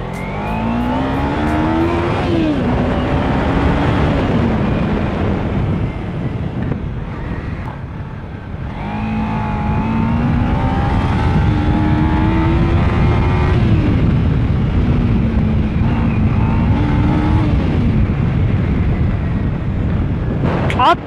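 Kawasaki Ninja 300 motorcycle fitted with a K&N air filter, riding with a steady engine drone that rises and falls in pitch as it accelerates, buffeted by loud wind noise at the microphone throughout.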